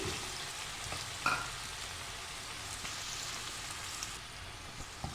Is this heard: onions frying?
yes